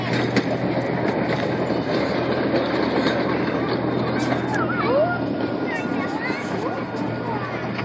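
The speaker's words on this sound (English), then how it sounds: "Hey, wave to the train." A train at Pullen Park rumbles past close by with a steady roar, clattering wheels and occasional metallic squeals, while people talk and call out faintly beneath it.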